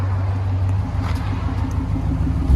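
A Toyota Tundra with a 4.7L V8 and an aftermarket Magnaflow exhaust with 4-inch tips idles nearby. It gives a steady, deep low rumble with a faint pulsing burble and no talk.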